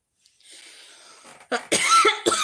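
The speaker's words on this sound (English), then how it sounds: "excuse me for coughing" A single person coughing nearby: a soft breathy stretch, then a few sharp, loud bursts close together.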